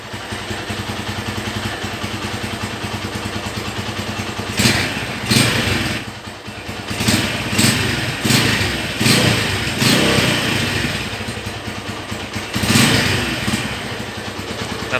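A red 2011 Honda Tiger Revo Special Edition motorcycle engine idles close by with a steady clatter, then is blipped through a series of sharp revs.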